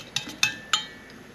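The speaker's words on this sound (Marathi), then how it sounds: "आता तेल तापतंय तोपर्यंत आपल्याला दही चांगलं फेटून घ्यायचं आहे." Curd being whisked in a bowl for dahi vada, three quick metallic clinks of a spoon against the bowl's rim, close and fairly faint.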